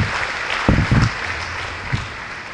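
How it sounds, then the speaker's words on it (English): Audience applause at a Crow Nation deal signing ceremony with Cloud Peak, scattered claps that swell briefly, then settle into a light, uneven patter under a steady room hum. "Let's give the legislatures and Cloud Peak a round of applause"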